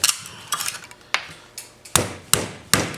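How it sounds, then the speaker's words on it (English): A small hammer strikes a chisel to knock wood out of a bench leg, giving about eight sharp, close knocks at an uneven pace, each followed by a brief ring. "Just take your chisel, little hammer, and go through."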